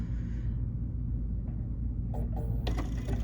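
A sewing machine stitches through a quilt with a low, steady mechanical hum and faint gear-like ratcheting, joined by a few sharper clicks toward the end.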